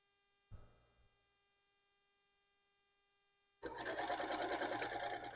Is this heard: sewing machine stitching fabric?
yes